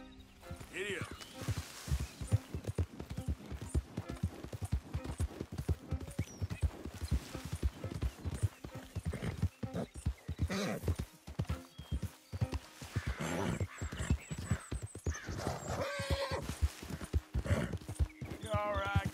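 Steady clip-clop of a horse's hooves in Red Dead Redemption 2, a continuous rhythmic trot or gallop up close, running under intermittent talk and a short whinny.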